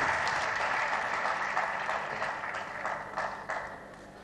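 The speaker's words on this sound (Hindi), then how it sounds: "मुंतज़मीन के लिए तालियां बजा दी" Sustained audience applause at a literary festival in Faisalabad, greeting the organizers after a poetry recital; steady, dense clapping from a hall crowd that fades slightly toward the end, with no talk over it.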